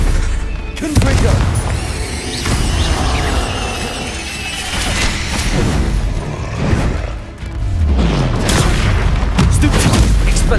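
Confringo blasting spell explosions in the video game Hogwarts Legacy, loud repeated booms and crashing blasts with dense rumbling combat noise, while a voice speaks over it.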